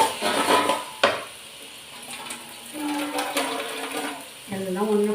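Ingredients for Tamil kara kulambu go into a pot together, with metal clinks of a spoon against the pot, a sharp clatter, and soft stirring and sizzling in a quiet kitchen.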